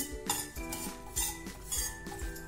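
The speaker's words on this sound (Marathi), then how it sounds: "इथे मी एक पॅन घेतलाय तर आपण पहिल्यांदा तीळ भाजून घेणार आहोत ते मी तीळ भाजायला टाकले" Sesame seeds roasting in a pan over a low gas flame, stirred steadily, with repeated light clinks and scrapes of a utensil against the metal.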